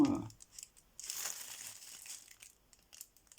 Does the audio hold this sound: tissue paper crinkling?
yes